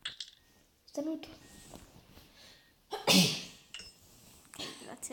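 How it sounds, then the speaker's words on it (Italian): A single sharp sneeze bursts out loudly midway, amid quiet game sounds and a few short noises before and after. "Starnuto."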